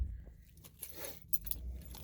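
Keys jangle and rattle close by inside a 2006 Ford F250 King Ranch FX4 Powerstroke diesel, a short burst of metallic clinks over a low rumbling background.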